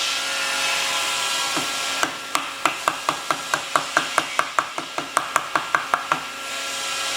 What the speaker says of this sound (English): So now I'm going to actually put the chisel into the groove.